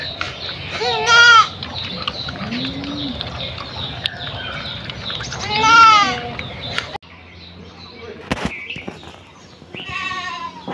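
Goats on a farm bleat in several loud, wavering calls spaced across the scene, close by, with bird chirps and a softer low bleat in between.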